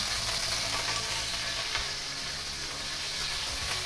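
Shrimp fry in hot oil in a wok, making a loud, continuous sizzle with a steady crackling hiss throughout.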